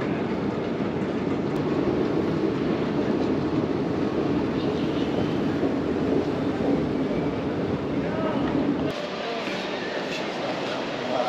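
Passenger train running along rails during a pilgrimage trip, a steady dense rumble with rolling rattle continuing throughout, then easing slightly toward the end.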